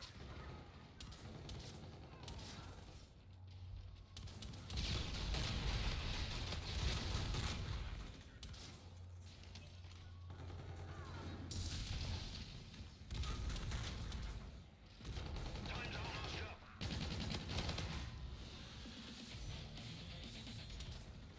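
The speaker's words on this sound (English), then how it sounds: "It's an electrical pistol." Bursts of gunfire from a Call of Duty: Infinite Warfare match, including an electric pistol, come in repeated loud clusters separated by short lulls, with muffled game action in between.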